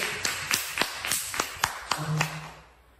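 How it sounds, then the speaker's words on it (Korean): A church congregation at a Sunday worship service clapping together in a steady rhythm, about ten distinct claps that fade toward the end, with a faint voice underneath. "우리 그 주님께 우리 큰 박수로 올릴까요?"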